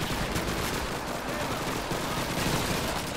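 Dense, continuous battlefield gunfire roars in Call of Duty 2, a steady wash of overlapping shots and automatic fire with no clear gaps.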